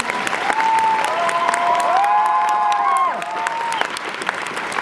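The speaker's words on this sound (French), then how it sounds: "Est-ce qu'on peut les applaudir encore une fois?" Applause fills the hall at a Polymanga 2015 convention panel for the Visiteur du futur, with sustained clapping and a few raised voices and cheers throughout.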